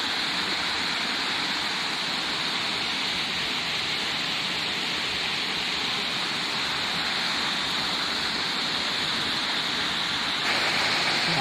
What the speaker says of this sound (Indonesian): sungai ini adalah sungai yang melewati atau mengaliri Curug Balong Kiara